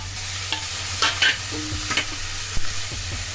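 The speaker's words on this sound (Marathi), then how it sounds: "सगळा असा परतून घ्यायचा एकजीव करून" Malvani-style masala with dry coconut and bay leaf being sautéed and stirred in a pan for goat intestine curry, with a low steady sizzle broken by several close spatula scrapes and taps.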